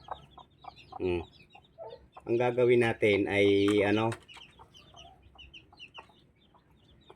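A mother hen clucks with her chicks in a backyard flock: a short cluck, then a long, loud run of close, harmonic calls lasting about two seconds, followed by faint scattered peeping and scratching while someone speaks briefly over it.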